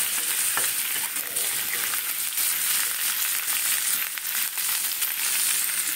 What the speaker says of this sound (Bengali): সবজিটাকে একটু ভাজা ভাজা করে নিচ্ছি